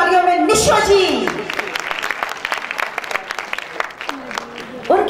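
Applause from an audience at a stage show greets a performer, a dense patter of clapping that swells and then thins, with an announcer's voice speaking over the start.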